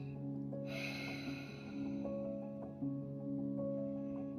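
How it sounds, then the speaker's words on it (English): Exaggerated ujjayi ocean breathing in a hatha yoga class: a single long, close, breathy inhale and exhale with a throaty rushing texture over a steady hum in the background. "you can take on your ocean wave or ujjayi breathing by softly constricting"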